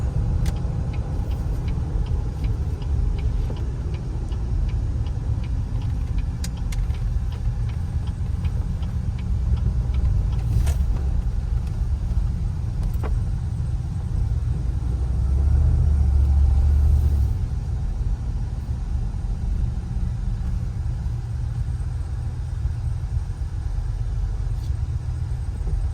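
Snap-on tool truck driving in, a low rumbling engine and road noise that swells slightly as it nears, heard over a steady idling background with faint ticking.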